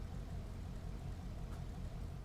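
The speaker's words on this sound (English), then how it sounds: "It's got good exhaust sound." Sabre Turbo muscle car in GTA 5 giving a steady, deep, rumbling exhaust drone at idle or low revs, continuous and fairly close, with no talking.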